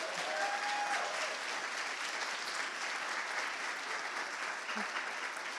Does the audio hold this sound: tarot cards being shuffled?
no